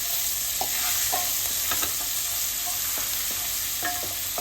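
Masala being stirred in a pan for chana chaat: repeated scrapes and light knocks of a spoon over a continuous sizzle, close and steady.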